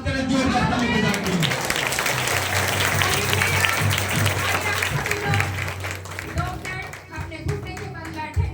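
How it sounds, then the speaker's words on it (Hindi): Church congregation breaking into loud, dense applause and cheering that fills the room, holding steady before thinning into scattered claps with voices over it. "जोरदार ताली बजाएंगे।"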